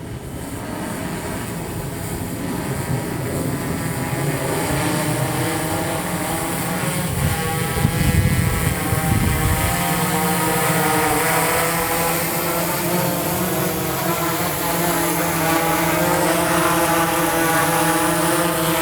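A DJI Inspire 1 drone descends while flying, its steady rotor whine and hum holding loud and continuous throughout with no pauses.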